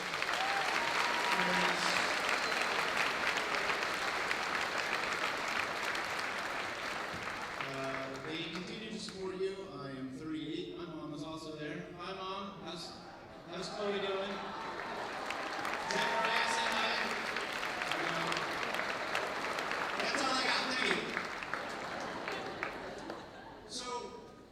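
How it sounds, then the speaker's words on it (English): Audience applause at a school graduation ceremony: sustained clapping from a large crowd that thins in the middle, where voices speak over it, then swells again before fading. "Give them a round of applause real quick."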